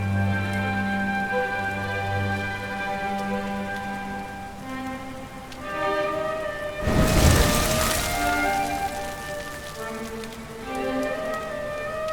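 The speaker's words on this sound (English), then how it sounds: "Looks like the rain's dying down" Rain falls steadily in the video game Dragon Quest XI S, a soft continuous patter beneath sustained musical tones, with a brief louder burst like a thunder roll midway.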